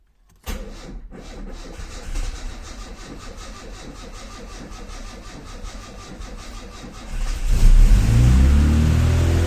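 A small carbureted engine catches after the choke is pulled, then runs with a rough, steady chug before the throttle opens and it revs up louder toward the end, close by.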